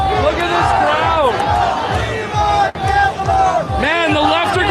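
A large protest crowd at the Million March 4 Children in Montreal cheers and shouts in loud, overlapping rising and falling yells, with a brief dip midway before the roar resumes.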